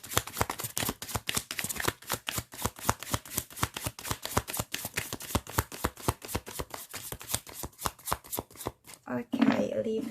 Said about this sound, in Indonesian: aku akan coba shuffle kartunya ya